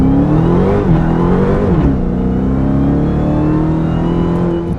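A 2020 Dodge Charger Hellcat Widebody launches hard from 0 to 60, its supercharged engine roaring loud and close as the pitch climbs and dips through gear changes, heard alone without talk.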